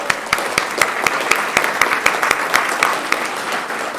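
A church congregation applauds at a Sunday service, dense steady clapping from many hands filling the room, with a few sharper individual claps standing out throughout.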